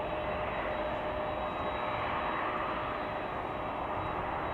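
A steady, distant roar of an American Airlines Boeing 737-800 jet arriving at Chicago O'Hare holds constant and fairly faint, with no voices.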